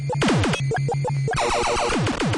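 Rapid electronic sound effects from the 1982 arcade game Robotron 2084: beeping blips, laser zaps and a burst of buzzy noise, loud and busy, with no voices.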